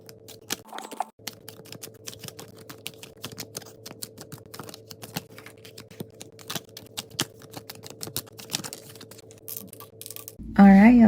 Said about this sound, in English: I'm going to go ahead and shuffle the cards, get 3 piles going